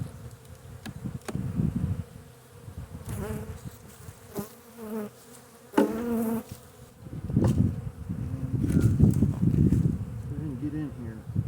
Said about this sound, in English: These are pretty nice bees typically.